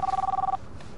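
A mobile phone rings with a short warbling electronic trill that pulses rapidly for about half a second, then cuts off, leaving quiet room tone.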